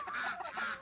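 Farm ducks on a homestead give a short, honking quack, a single raspy call of under a second heard fairly close but quiet.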